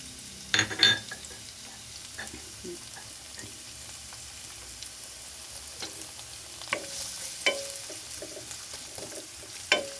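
Onion and garlic fry in a pan for a single-serving egg dish, giving a low steady sizzle with scattered scrapes and taps of a utensil stirring and a few sharper clinks.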